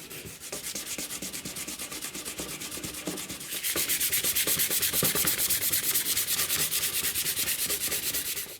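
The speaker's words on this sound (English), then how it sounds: "I'm going to try sanding this at it." Rapid rhythmic scraping of sandpaper against Bakelite on a 1947 Stromberg-Carlson 4A17 radio, close and continuous, growing louder and brisker about halfway through.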